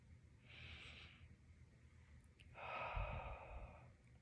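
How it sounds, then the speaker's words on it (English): Two slow, deep breaths, close and quiet, each a soft drawn-in inhale followed by a gentle airy exhale, taken after rubbing in an essential oil. "then I'm just going to take a couple good deep breaths here"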